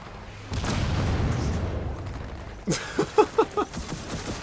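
Rocket explosions in the shooter game Gears of War 4: a heavy boom opens, followed by a rapid cluster of sharp blasts and pops, loud and close over a background game soundscape.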